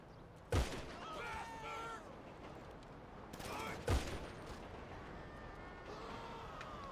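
Two heavy gunshots from a video game weapon, a couple of seconds apart, each a sharp loud blast with a ringing tail over a steady ambient bed, with faint talk in the background.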